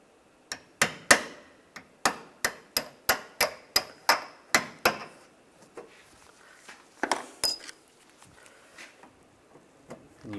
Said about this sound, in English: Just using a punch to just punch out the center.